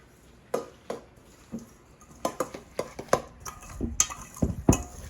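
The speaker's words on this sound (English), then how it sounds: "We're going to give it a lime juice, and then we're going to mix." Guacamole being stirred with lime juice in a bowl, a series of soft, wet, squishy thumps and clinks of a utensil against the bowl, close and fairly irregular, growing busier toward the end.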